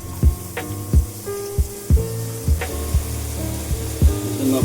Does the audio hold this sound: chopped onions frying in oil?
yes